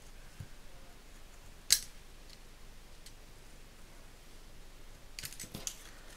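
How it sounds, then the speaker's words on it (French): Scissors cutting out a stamped paper image for a vintage sewing-themed card, quiet close snips and paper rustles, with one sharp cut near the start and a cluster of snips toward the end, alone and with no talk. "Donc là je finis de découper le tampon."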